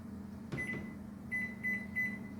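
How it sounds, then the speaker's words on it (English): A kitchen microwave oven hums steadily while running, punctuated by a click or clunk of the door and several short, high electronic beeps, all fairly quiet and without speech. "I'm going to give it a zap in the microwave"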